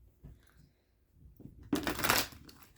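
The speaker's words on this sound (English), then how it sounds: "Love this deck, hate to shuffle it." An oddly shaped tarot card deck being shuffled: after quiet handling, a loud close riffle bursts out and runs for about a second.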